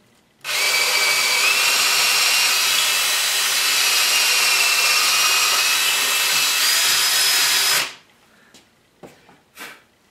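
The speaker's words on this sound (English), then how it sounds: "all I do is set my drill in there" A power drill whirs steadily for about seven seconds, loud and close, boring a 1-inch-deep hole into a wooden board, then stops, followed by a few faint knocks and clicks.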